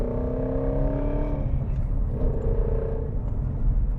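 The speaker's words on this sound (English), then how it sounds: "right here in this turn, we downshift to third" A 2017 Ford Mustang GT350 engine rumbles low and steady through a turn, its pitch dropping as it downshifts to third partway through, heard from inside the car.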